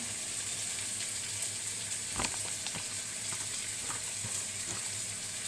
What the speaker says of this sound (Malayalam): പാൻ ചൂടായി അതിലേക്ക് നമുക്ക് വെളിച്ചെണ്ണ ഒഴിച്ചു കൊടുക്കാം